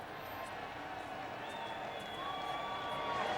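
Big stadium crowd noise building before Ireland v Italy at the 1994 World Cup, a steady roar heard at a distance with a faint whistle tone in it.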